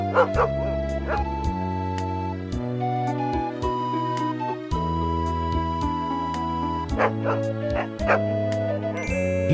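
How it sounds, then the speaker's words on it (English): A dog barks and whimpers protectively beside a tree in the Police Quest: Open Season video game, short yips and woofs sounding over steady synthesized game music. "The dog appears protective of the tree."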